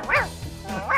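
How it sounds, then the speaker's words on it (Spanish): A dog barking in the video game GTA 5, two sharp close barks about a second apart with faint background noise between. "Ladra, perro, ladra."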